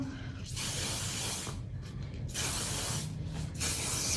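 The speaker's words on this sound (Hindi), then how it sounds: "मैं जल्दी से स्प्रे कर दूंगी जहाँ जहाँ मैंने कर्ल किया था।" Hairspray hisses onto freshly curled hair in several bursts of varying length, close and fairly quiet, with brief pauses between sprays.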